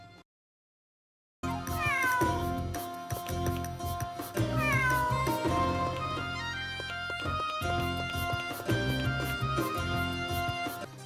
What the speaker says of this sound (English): Oh, we do find another cat.